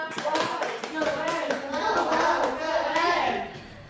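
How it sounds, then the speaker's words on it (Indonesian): Students in a class clap together, a dense burst of rapid clapping that carries on steadily and close, with children's voices mixed in before it trails off. "Tepuk tangan untuk kita semua."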